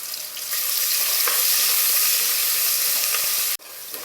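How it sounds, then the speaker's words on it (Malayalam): Ginger, garlic and green chili frying in hot oil for a chicken curry, giving a loud, steady broadband sizzle that holds for several seconds with a few stirring bumps, then briefly cuts out near the end. "ഇനി അതിലേക്ക് നമുക്ക് ഇഞ്ചി വെളുത്തുള്ളി പച്ചമുളകും ചേർത്ത് കൊടുക്കാം. ഇതൊന്ന് വഴന്ന് വരട്ടെ."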